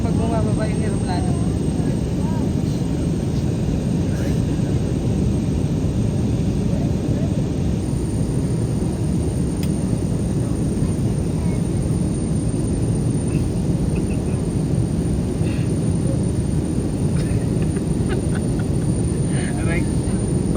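Steady broadband roar inside an airplane cabin as the aircraft descends on a flight from Manila to Boracay, a constant engine and airflow drone filling the whole stretch with faint voices in the background.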